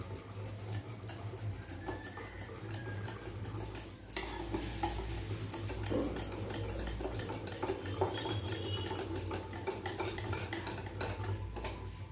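Gram flour (besan) batter being mixed with water by hand for pumpkin flower fritters, a steady wet squelching and stirring that runs continuously and close, with faint kitchen clinks and no talking.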